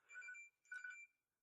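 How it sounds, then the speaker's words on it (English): A phone rings with two short electronic tone bursts separated by a brief pause, clear and alone with no talking. "And that is my phone."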